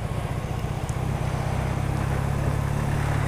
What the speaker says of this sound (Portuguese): vocês ouvirem um barulho maravilhoso desse motor, dessa CB450 Custom 1985